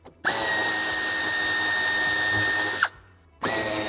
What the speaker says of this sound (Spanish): Quitamos los dos tornillos